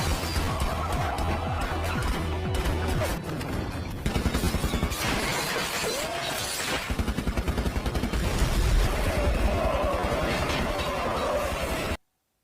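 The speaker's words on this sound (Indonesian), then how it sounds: "Dan saling tembak pun tak dapat dihindarkan." Gunfire during a car chase shootout in the film Swordfish, with rapid bursts of shots and crashing impacts over a busy action soundtrack of engines and music.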